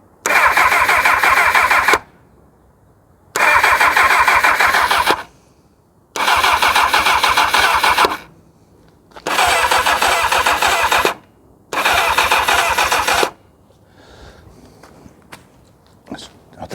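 A 1999 Kawasaki ZX6R motorcycle on a weak battery cranks in five loud, evenly spaced bursts of about two seconds each, separated by short silences, and the engine never catches.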